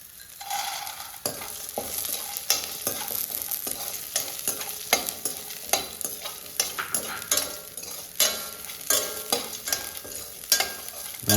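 Shallots are sautéed in a pan for guava chutney. A steady sizzle sits under repeated sharp scrapes and taps as a spoon stirs them, close and fairly loud, with no speech.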